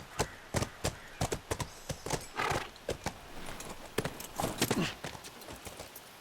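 Horse hooves clip-clopping in The Last of Us video game, a close, fairly quiet series of sharp irregular hoof strikes at a walking pace, with a brief soft snort or whinny partway through.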